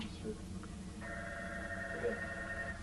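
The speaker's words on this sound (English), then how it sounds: "I can't believe that's the first time the phone rang." A telephone rings in a room during a dog obedience training tape, a steady electronic tone lasting nearly two seconds, moderately loud over background noise and faint chatter.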